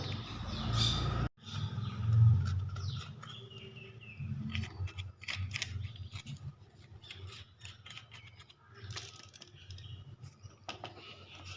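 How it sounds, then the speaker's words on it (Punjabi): Bell peppers being cut to remove the seeds for stuffing, with irregular knife clicks and taps on a board and soft handling noises at close range, and no speech. "ਇਸ ਤਰ੍ਹਾਂ ਆਪਾਂ ਇਹਨਾਂ ਨੂੰ ਸਾਰੀਆਂ ਸ਼ਿਮਲਾ ਮਿਰਚਾਂ ਨੂੰ ਕੱਟ ਲੈਂਦੇ ਆ"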